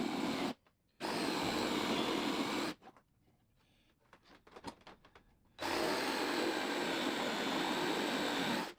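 Loud drill whirring in two long bursts, drilling a 2x4 at 10 degrees for a stool, stopping between them for a stretch of quiet clatter and handling noises.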